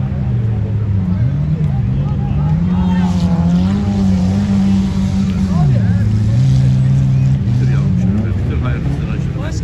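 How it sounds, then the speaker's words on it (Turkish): Off-road race cars compete in a Sapanca off-road race, engines droning loud and continuous with rising and falling revs as a car passes close by. "İkinci araba geldi gene Hendo Kofrot'tan Şükrü."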